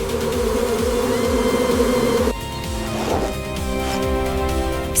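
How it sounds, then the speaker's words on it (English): Wild bees buzzing around a giant jungle beehive in the forest, a continuous close insect drone with a sharp shift in tone midway, steady and fairly loud with no voices. "Stage 1 begins with forest flowers and wild bees."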